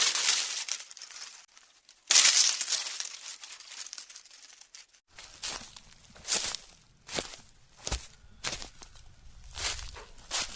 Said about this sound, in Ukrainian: Кроки по листю.